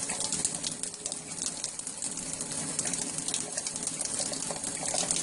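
Running water from a shower during a bath for pet budgerigars, a steady, moderately loud spraying hiss that continues without a break.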